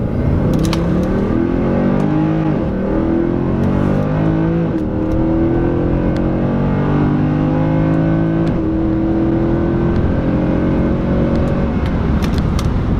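A 2014 Mercedes C63 AMG in manual Sport Plus mode revs and accelerates hard, its loud engine note climbing through the gears in repeated rising sweeps, close and continuous, with no talk over it.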